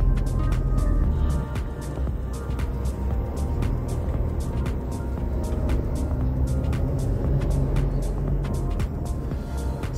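A car driving on a road in the Philippines, heard from inside as a steady low engine and tire rumble that stays constant throughout, with no talking.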